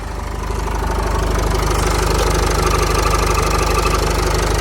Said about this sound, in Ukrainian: Двигун працює рівненько, чудово.